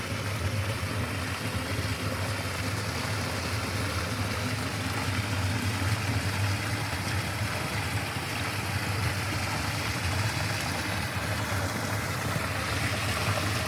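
Water pours steadily from a drainage pipe sticking up in a field near a small beaver dam, a constant rushing wash with no breaks, fairly close.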